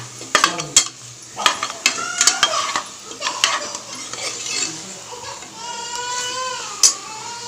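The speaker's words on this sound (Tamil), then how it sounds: "நல்லா கிண்டி விடுங்க" Masala stirred and sautéed in oil in a pan, with repeated scraping and clinking of a spoon against the metal and a light sizzle underneath, plus some other high-pitched sounds toward the end.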